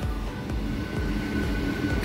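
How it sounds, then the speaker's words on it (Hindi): A local train rumbles past nearby at a Chennai railway station, with a steady low roar and rhythmic clatter, continuous for the whole moment, no voices. "देखो लोकल ट्रेन"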